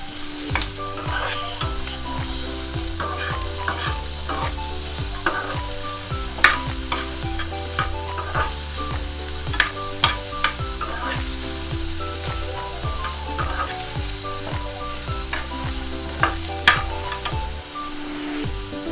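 Misal mixture sizzles steadily in a pan while being sautéed and stirred, with a continuous frying hiss broken by repeated scraping strokes of the spoon, close and moderately loud throughout.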